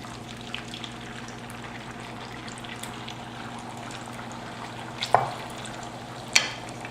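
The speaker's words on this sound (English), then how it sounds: "Then we're going to add our egg mixture." Frittata egg mixture poured into a hot oiled pan, a continuous crackling sizzle with a few sharp clinks of a utensil against the pan.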